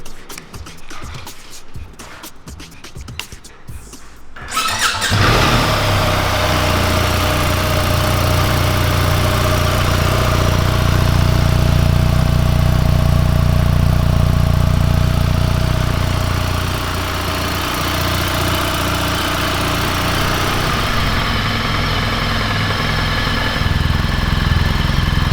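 A BMW R1300 GS motorcycle engine idles steadily and loudly for about twenty seconds, with an even, low rumble and no talk over it, after a few seconds of quieter handling noise.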